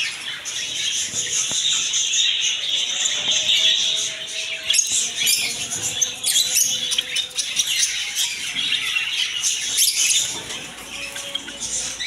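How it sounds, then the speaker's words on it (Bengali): Caged Java sparrows squawk and chirp nonstop at a bird market stall, a crowded, close chorus of sharp calls and twitters that keeps going without any voices. "এগুলো আছে জাবা পাখি সেট আপ।"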